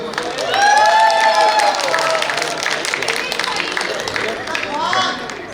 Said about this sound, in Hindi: देव पंडा भाई ना जबरदस्त ताली गोटे हो।